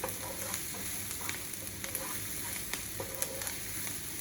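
Root vegetable hash frying in a pan, a steady close sizzle with soft scraping and tapping as it is stirred at an uneven, frequent rhythm.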